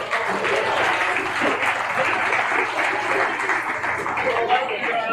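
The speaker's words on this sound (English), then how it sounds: "let's give these exhibitors a big round of applause" Crowd applause for exhibitors at a swine show in a sale pavilion, a loud continuous wash of clapping filling the room, with a low steady hum underneath and faint voices mixed in.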